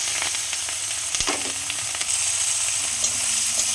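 Chopped onions and chillies fry with cumin in hot oil, giving a steady, loud sizzle with occasional stirring scrapes throughout.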